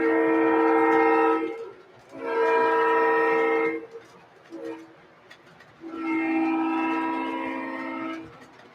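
A model train runs past a layout crossing, its horn sounding in three long blasts separated by short gaps, loud and close over a low rolling rumble.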